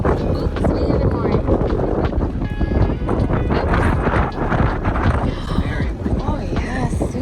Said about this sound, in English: Oh yeah, super windy